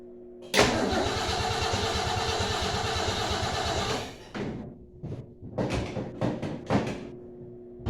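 A car engine cranks and fires up after a carburetor rebuild, running roughly for a few seconds before stumbling and sputtering through several uneven revs and catches, loud and close.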